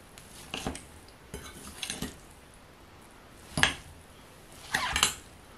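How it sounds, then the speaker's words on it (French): A vegetable and bulgur patty mixture is stirred with flour and cornstarch in a bowl, giving scraping, clinking utensil bursts at irregular intervals over a soft background. "Faut bien mélanger. Hein. Faut bien qu'il y ait de la farine de partout, de la maïzena de partout."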